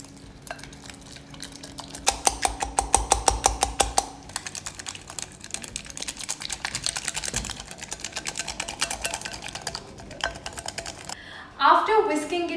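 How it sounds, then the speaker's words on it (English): Custard apple flesh being whisked vigorously in a bowl to loosen the seeds, a quick rapid clatter of utensil against the bowl, loudest in a dense burst early on, then steadier scraping and tapping close by. "we have to whisk it vigorously to remove the seeds from this flesh."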